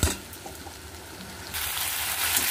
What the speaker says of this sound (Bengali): পেঁয়াজ, আদা, রসুন আর কাঁচা লঙ্কাটা ভালো করে আমি একটু কষিয়ে নেব।